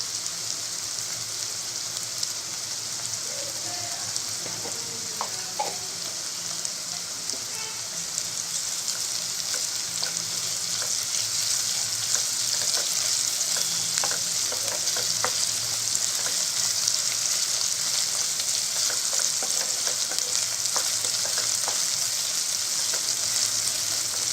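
Ginger garlic paste frying in oil for prawn curry, a steady hissing sizzle that grows slightly louder midway, dotted with faint crackles and occasional light stirring clicks.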